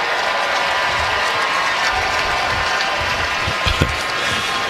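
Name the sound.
crowd applause for Justin Turner at baseball game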